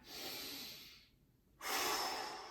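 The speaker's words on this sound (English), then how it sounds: "Nice big breaths out and in, about equal" Deep, steady breathing during a hip and low-back mobility stretch, a long broad exhale followed by a pause and then a strong inhale, close and clear with no talk.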